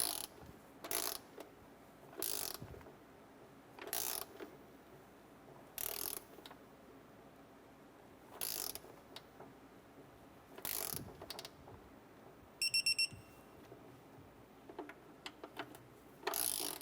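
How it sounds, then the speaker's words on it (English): Ratcheting torque wrench tightens intake manifold bolts on a 2008-2012 Honda Accord, with repeated short bursts of clicking separated by pauses, close and fairly quiet, with no talk. "Go ahead and torque down our intake manifold bolts to 16 foot-pounds."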